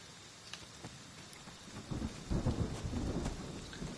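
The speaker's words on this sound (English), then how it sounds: "I love the way that the rain makes the game at least a few percent more spooky." Rain and rolling thunder in a video game, a soft rain hiss under low rumbles that swell louder partway through and keep grumbling to the end.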